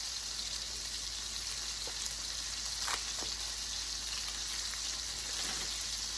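Burgers frying in a skillet on their second side, a steady low sizzle with a few faint pops and stirring sounds, no talking.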